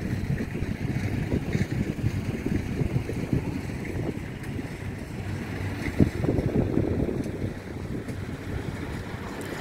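Strong wind gusting across a rice field during harvest, roaring steadily and buffeting the microphone with low rumbling bursts throughout, no voices present.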